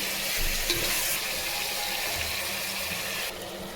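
Washed mushrooms fry in a hot pan for mushroom pulao, giving a dense, even sizzle close up. The sizzle runs unbroken for a few seconds with a faint watery hiss.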